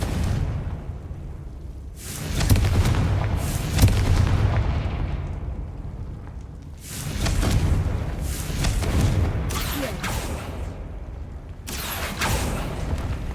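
Several booming fire-spell blasts from the Confringo spell in Hogwarts Legacy, each a heavy explosive burst with a rumbling tail, coming in irregular waves at steady loudness.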